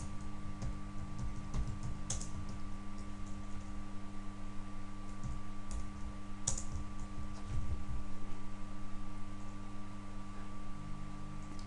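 Mouse clicks in press preferences software on a computer, a few sharp isolated clicks over a steady electrical hum and low background noise, with no talking.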